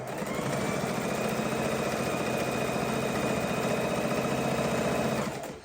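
A sewing machine stitches a king size quilt border in one steady, fast mechanical run, close and even, stopping abruptly near the end with no talk.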